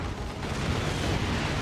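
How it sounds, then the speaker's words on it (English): Explosions from the real-time strategy video game Warhammer 40,000: Dawn of War 2 keep up a dense, continuous roar of booms and blasts. The sound is loud and steady, with no talking. "East side, I hear explosions and things."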